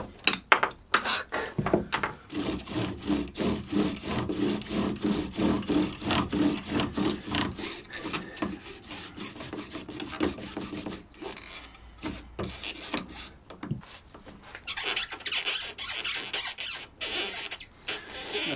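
Wood rubbed hard against wood to make fire by hand, a continuous rapid rasping and scraping with rhythmic back-and-forth strokes, close and loud, pausing briefly before resuming.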